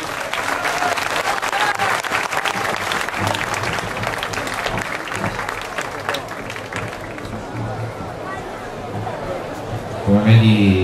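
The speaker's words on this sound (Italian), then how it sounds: "Un applauso ai ragazzi." Crowd applause for two young fighters at a team bout, dense clapping from a large audience that runs for several seconds and slowly thins, with talk and crowd chatter mixed through it.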